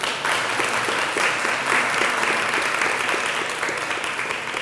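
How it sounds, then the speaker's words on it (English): Steady, full applause from a crowd at a county government announcement, a dense wash of clapping held evenly from start to finish with no voices over it. "Please give him a big round of applause."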